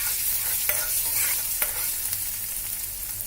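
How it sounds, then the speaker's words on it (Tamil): Chopped ginger and garlic fry in hot oil in a pan, giving a steady sizzle with a few sharp clicks and scrapes of stirring, close and alone without voices. "இஞ்சி பூண்டு எண்ணெயில் வறுப்பட்டதும்"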